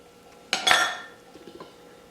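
Stirring creamy beef kabobs in a crock pot, with a spoon clinking and scraping against the pot in one brief burst of loud contact, then a few softer taps.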